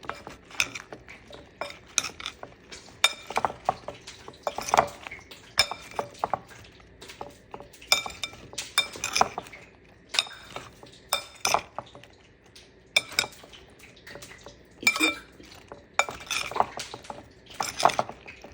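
Cauliflower florets for Gobi Manchurian are mixed gently in a bowl, making irregular clinks and soft scrapes of utensil on dish that come in short bursts with quiet pauses between them, close and fairly faint.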